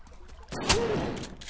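A shotgun blast in the video game Silent Hill Downpour, one sharp loud report with a short rumbling tail, after a moment of quiet ambience.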